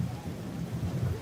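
Rain falls outdoors at a French chateau, a steady rushing patter with low rumbling beneath it, continuous and fairly loud throughout the short stretch.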